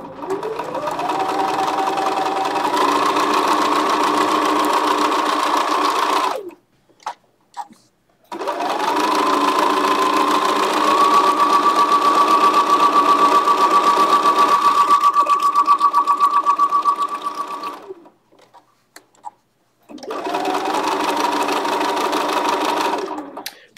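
A Bernina sewing machine runs in steady, loud bursts as it stitches down a fabric rose, pausing for a few seconds before starting again, with a constant motor whine and no talking.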